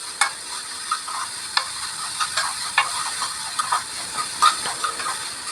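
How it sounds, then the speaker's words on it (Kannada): Food sizzles steadily in a pan with ground black pepper added, a continuous hiss broken by scattered clicks and spatters from stirring, close and moderately loud with no talking. "ಚೆನ್ನಾಗಿ ಫ್ರೈ ಆಗ್ತಾ ಇದೆ."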